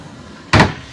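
A bedroom storage door in a Starcraft Telluride 292RLS travel trailer shuts with a single sharp, close thump, loud against an otherwise quiet interior.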